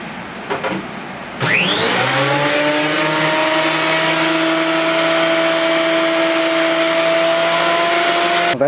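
A thickness planer starts up with a rising motor whine and settles into a loud, steady roar as it planes a sawmill-cut table board.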